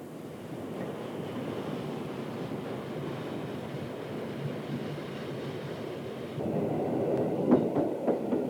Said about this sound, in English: Other visitors to Luzern are trains of the privately owned Southeastern Railways, or Südostbahn.